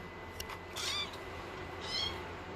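A kitten gives two short, high meows close by against a quiet indoor room hum.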